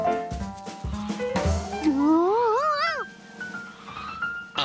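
A cartoon cat lets out a long, wavering, rising meow, loud and close over a light background score, preceded by short clattering noises.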